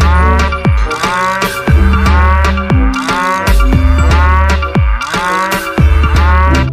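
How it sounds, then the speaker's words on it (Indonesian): Loud, drawn-out cow moos repeat in a rough rhythm, close and resonant, each call sliding downward in pitch. "ini adalah sapi"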